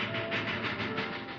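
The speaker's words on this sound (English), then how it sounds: "A train took me to Tucson." A train in a TV western rolls past with steady, rhythmic rumbling and clacking, a dense, continuous mechanical roar that fills the short stretch with no talk.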